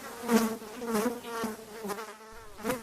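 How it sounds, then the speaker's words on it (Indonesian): Flies buzz in a radio advertisement, a wavering, droning hum that swells and fades in several pulses over about three seconds, close and fairly clear with no speech. "Ma, kamar adik banyak lalat nih."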